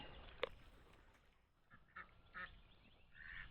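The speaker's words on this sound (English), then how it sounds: "These all dirty ducks." Ducks near a duck house in a front yard farm let out a few faint, scattered quacks and honks, one brief sharper call early on, in a quiet outdoor setting.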